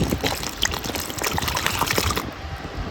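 Water pours steadily into a container while sharbat is prepared with ice cream, running as a continuous splashing trickle for about two seconds and then stopping abruptly.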